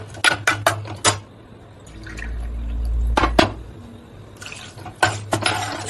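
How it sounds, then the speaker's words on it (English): Water is poured from glasses into a pan of onion masala with coriander and sambar powder, a few splashing pours and drips against the metal pan, close and distinct with short pauses between. "now add 2 glasses of water"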